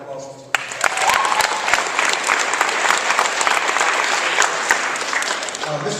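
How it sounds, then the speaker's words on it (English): A school assembly audience bursts into loud, sustained applause for a Spread the Word campaign guest, dense clapping filling the room steadily for several seconds before it tapers off. "Another round of applause."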